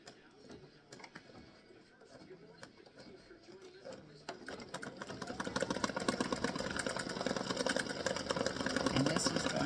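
An embroidery machine stitches yellow thread onto card stock, a rapid mechanical clatter that grows louder and busier partway through, with someone talking over the quieter opening.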